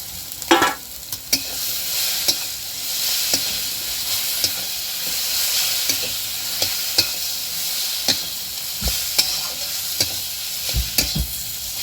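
Fried fish roe being added and stirred into taro greens in a hot pan: a continuous loud sizzle and hiss punctuated by repeated sharp utensil scrapes and taps against the pan, with no talk.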